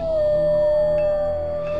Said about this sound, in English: a low, haunting howl pierced the silence from the distance